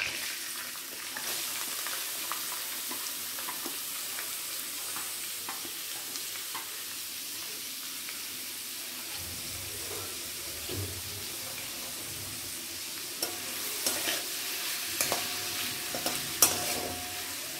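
Four medium chopped onions fry quietly in a pan, a soft continuous sizzle with frequent scraping stirs and a few louder clatters near the end.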